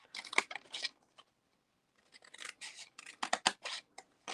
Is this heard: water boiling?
no